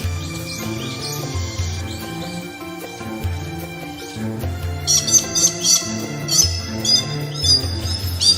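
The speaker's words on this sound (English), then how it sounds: "A short walk into the forest, we can hear the lovely songs of various birds and see their beautiful colors." Several species of birds sing and call in the Sawai rainforest of the Moluccas, with layered chirps, whistles and high trills overlapping throughout, growing busier and brighter in the second half, close and clear.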